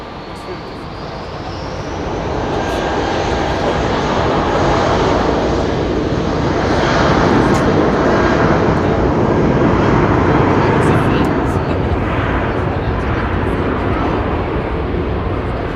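A jet aircraft roars at London Heathrow Airport, swelling to a loud, broad rumble that holds steady for most of the stretch, with people talking underneath.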